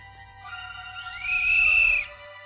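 A single shrill whistle blast lasting about a second rises sharply over a faint steady background tone, then cuts off.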